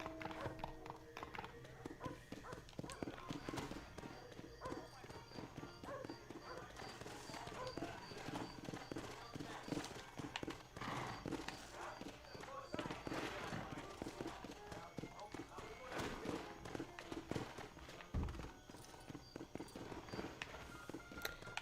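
Horse hooves clip-clop at a steady walking rhythm through a large town in the video game Red Dead Redemption, mixed with background music and game ambience, with someone talking over it.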